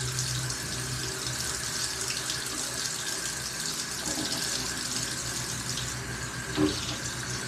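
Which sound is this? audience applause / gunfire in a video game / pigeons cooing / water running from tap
water running from tap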